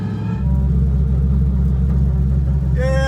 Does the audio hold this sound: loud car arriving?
yes